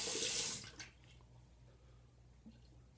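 Tap water gushes loudly for a moment while a razor is rinsed during a wet shave, then cuts off, leaving a quiet room with faint trickles.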